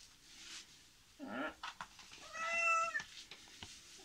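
A cat meows clearly during a bath, a couple of drawn-out, rising and falling calls up close, with light handling noises around them.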